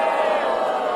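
A political rally crowd cheers and roars in a dense, steady wash of voices, loud and continuous through a brief moment.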